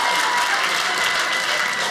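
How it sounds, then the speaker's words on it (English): A comedy show audience claps in a loud, dense, continuous wave of applause that fills the room without a break. "Clap your hands if you did not go on a cruise when you was a child."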